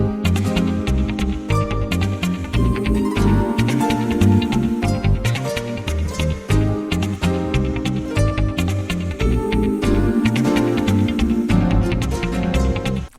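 A dense FL Studio arrangement with a human choir sample layered in, playing loud and continuous over thick sustained chords and steady rhythmic elements, with no talking.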